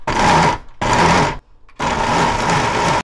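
A blender grinding green chilies with anchovy fish sauce for green chili radish water kimchi: loud, close whirring bursts of about half a second, one second and over a second, separated by short pauses.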